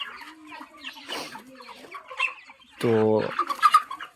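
Broiler chickens about 35 days old cluck in a poultry farm, with scattered short clucks and one loud, drawn-out squawk near the end, plus a brief spoken word.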